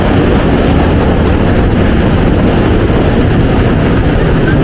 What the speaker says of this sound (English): listen to that, subway trains can go over the Manhattan Bridge